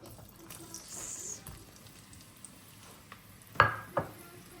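Onion frying in hot oil in a pan gives a steady soft sizzle, with a stir and two louder clanks of a utensil against the pan near the end.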